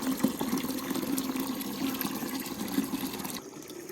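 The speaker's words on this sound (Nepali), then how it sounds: "पानी भरिरहेछ।" Clear village tap water pours steadily into a small container, a continuous bubbling, trickling fill that stays close and even before cutting off sharply near the end.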